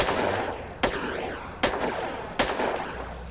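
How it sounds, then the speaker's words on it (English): Three loud, evenly spaced gunshots ring out in a video game roleplay, each a sharp crack with a decaying echo over a dense background rumble, close and alone without talk. "Shots fired. Shots fired."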